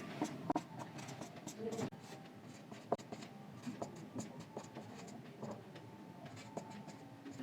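A teacher writing out a class 10 trigonometry solution, pen or chalk scratching in short quiet strokes and taps under a soft murmuring voice.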